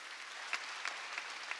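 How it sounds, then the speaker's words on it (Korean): A congregation claps at a Korean church's Wednesday worship service, quiet, with a few sharper claps standing out at a steady rhythm against a soft background wash. "박수 쳐라"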